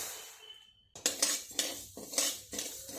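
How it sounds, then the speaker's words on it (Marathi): Garden cress seeds dry-roasted in a pan, heard as rhythmic metal spoon scrapes and clinks against the pan in quick bursts after a brief quiet start, close and fairly loud. "आता हळीव आपण भाजून घेऊयात"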